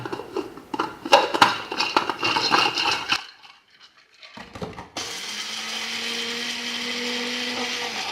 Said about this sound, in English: So I'm going to put it into the blender grinder. I'm going to use the cross blade, not the flat blade